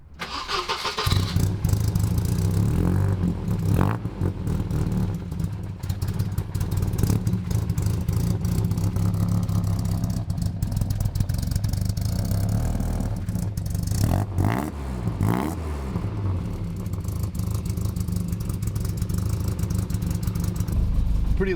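A 2800 lb Volvo 740 with a 120 hp engine idles and runs lumpy, with a steady uneven rumble up close and a few blips of revving partway through.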